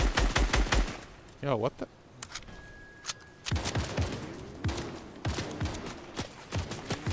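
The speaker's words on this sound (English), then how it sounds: "somebody's shooting at us" Gunfire in the video game Fortnite, with rapid bursts of shots at the start and later sharp single cracks, heard under players talking excitedly over voice chat.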